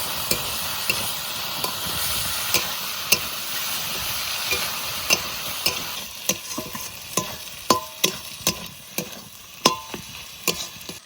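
Fish oil, onion, eggplant, tomato and green chillies fry in a pan, giving a steady sizzle alone, punctuated by regular clinks and scrapes of a spatula stirring.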